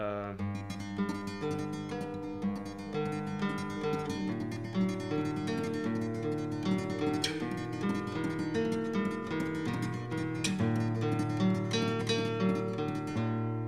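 A guitar plays a steady, repeating low bass-line pattern with plucked notes, close and clear, without any voices.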